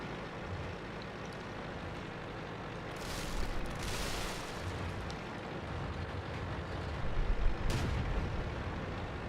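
World of Tanks tank gun shots at a Hummel: a few heavy, spaced cannon blasts over a constant low engine rumble, moderately loud.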